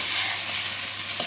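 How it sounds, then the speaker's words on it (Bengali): Jackfruit and prawn masala sizzles and fries in hot oil while being stirred, a steady close hiss with a faint scrape of the spoon and no talking. "আরও 5 মিনিট আমি এটাকে ভালোভাবে কষিয়ে নেব"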